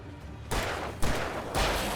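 Gunshots in the video game Alan Wake Remastered: three loud, close blasts in quick, even succession, each followed by a sustained noisy tail, with no talking.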